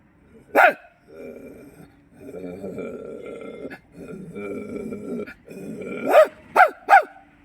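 A man imitates a dog, with sharp bark-like yelps at the start and end and low growling sounds between them, close and clear.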